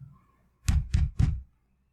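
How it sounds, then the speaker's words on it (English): A fist knocks on a door three times in an even rhythm, each a heavy, close, hollow thud, followed by silence. "knocked on the door with her fist"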